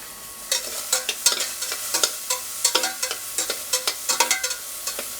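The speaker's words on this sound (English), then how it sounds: "Now this is starting to sizzle." Bacon sizzling and crackling in a frying pan for carbonara, with a steady hiss and rapid irregular pops, close and fairly loud with no talking.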